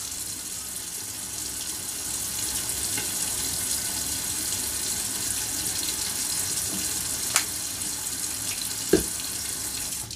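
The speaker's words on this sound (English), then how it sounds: "I'm going to start my water for my neutralizer" Steady warm water from a tap pours into a sink, a continuous hiss and splash throughout, with a couple of brief clinks near the end.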